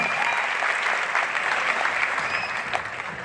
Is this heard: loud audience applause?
yes